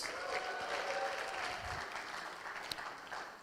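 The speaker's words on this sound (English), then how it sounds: "you all clap for yourself for real now" A conference audience at an Accelerate Africa demo day claps for itself, a dense, fairly soft burst of applause that thins out toward the end, with a brief sharp clap standing out near the close.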